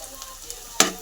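Four garlic cloves dropped into hot oil for a keema; a faint background crackle gives way to a sudden sharp burst of sizzling near the end.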